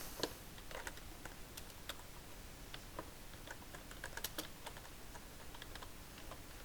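Keys tapped on a computer keyboard while a name is typed into a text box in MS Word, a steady run of light, irregular clicks close to the microphone with no talking.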